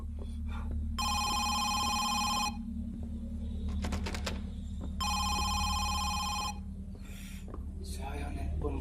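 An old telephone rings in the horror video game Home Sweet Home: two long bursts of bell-like ringing separated by a few seconds. Between the bursts are a low hum and faint voices.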